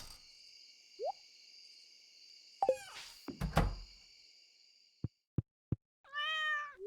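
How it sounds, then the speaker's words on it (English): A video game cat gives a short, faint meow, then a longer, clearer one near the end, set among chimes, clicks and other game sound effects over a quiet hum. "Kitty."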